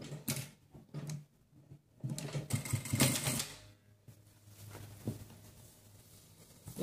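A sewing machine topstitches a doubly folded fabric edge over a seam on a baby diaper, running in short quiet bursts of rapid mechanical stitching with brief stops between.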